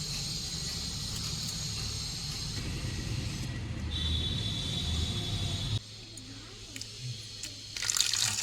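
Tap water runs steadily into a sink while prawns are washed, a close continuous splashing stream. The flow cuts off partway through, then a few drips and handling noises follow.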